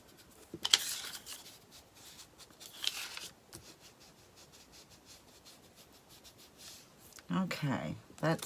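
Distress ink is rubbed with short scratchy strokes around the ripped edge of a paper photo in a rustic Christmas craft, a few faint dry swipes with quiet pauses and soft speech.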